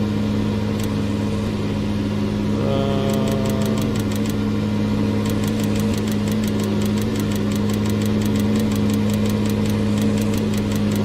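An engine runs steadily at a close, constant drone with a rough, knocking undertone and a brief mid-clip shift in tone, while a faint rapid ticking sounds in the background.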